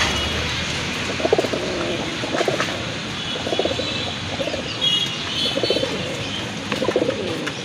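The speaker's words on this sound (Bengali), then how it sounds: "আরেক জোড়া কবুতর দেখতে পাচ্ছেন" Fancy pigeons kept for sale coo in soft, repeated bursts at a fairly even rhythm over a constant background hum, each throaty call rising and fading, with faint chirps from other birds mixed in.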